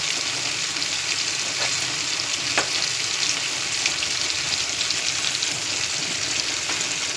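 Softened onions fry in a pan with a pinch of turmeric, making a continuous even sizzle up close, with a few sharp clicks and scrapes from stirring. No one speaks.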